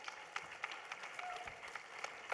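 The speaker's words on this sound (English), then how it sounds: "I'd like to have everybody give a round of applause to Trent for putting on an amazing event here tonight." A room of people at an evening live-streamed event applauds the event organiser, steady but fairly faint clapping held at a distance for a couple of seconds.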